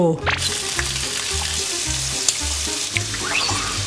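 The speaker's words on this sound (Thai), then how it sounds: "หมูสามชั้นย่างกับเนื้อย่าง" Pork belly and beef slices sizzle loudly on a hot grill, a steady dense crackle with occasional pops and soft scraping, no voices over it.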